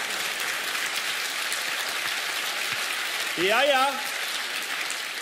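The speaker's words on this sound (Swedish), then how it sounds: "eller kommer en applåd här på det?" Theatre audience at Dramaten applauds throughout, a steady broadband patter of many hands; a voice speaks briefly near the middle.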